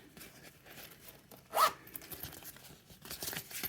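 The zip pocket on a traveler's notebook passport cover is zipped in one short, quick rasping pull, close and distinct against quiet handling rustles.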